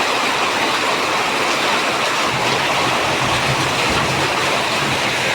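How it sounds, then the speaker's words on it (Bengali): Hail and rain pound a tin roof in a steady, loud, unbroken roar of dense drumming, with no voices over it. "টিনের শব্দে বৃষ্টিগুলো এত ভালো লাগে।"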